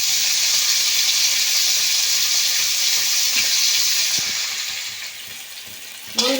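Bitter gourd frying in oil in a pan for Bengali shukto, a steady close sizzle and hiss that softens toward the end before a sharp clatter, with no voices.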